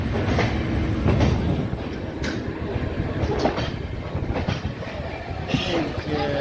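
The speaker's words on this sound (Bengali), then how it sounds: "ট্রেন কিন্তু ছেড়ে দিয়েছে 8:25-এ আমার দুন এক্সপ্রেস।" The Doon Express rumbles and clatters steadily as it pulls away from Howrah station, with rhythmic wheel clicks and occasional metallic squeals, loud and close, with faint voices.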